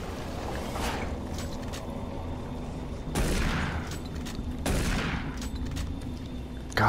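Shotgun blasts in the video game Doom 3, several loud booming shots at irregular intervals with trailing echoes over a constant low game ambience, no voice.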